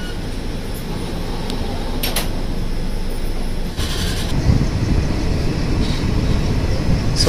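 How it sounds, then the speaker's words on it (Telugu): Metro train rolling past on an elevated track overhead at a station, a steady loud rumble of wheels and carriages with a few brief metallic clanks. "సో పైన చూడొచ్చు మెట్రో ట్రైన్"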